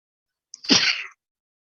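A single sharp sneeze in a classroom, close and loud, on its own against silence.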